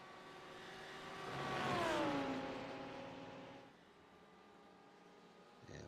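Race cars, a BMW and a Lamborghini Huracan in GTD competition, roar past on track, the engine note swelling and bending downward as they pass, then a steadier engine drone continues in the distance.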